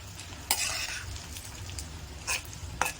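Chana dal and urad dal sautéing in a pan for idli upma, a quiet continuous frying hiss with a few crisp spoon scrapes against the pan at irregular intervals, close and unaccompanied by speech.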